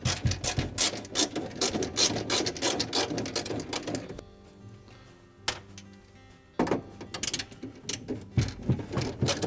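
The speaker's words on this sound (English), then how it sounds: "with our 1/4-inch nut driver, we'll remove the 2 screws that are up in the vents at the top here" A 1/4-inch nut driver working screws out of the top vents of a Frigidaire refrigerator, rapid clicking and rattling bursts, a quiet pause with a lone tap, then another run of close mechanical ratcheting.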